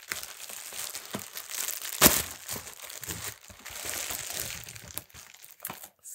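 Crinkling and tearing of plastic mailer packaging being cut open by hand, a close, dry crackle running in bursts with one sharp rip near the middle and brief pauses, no voices.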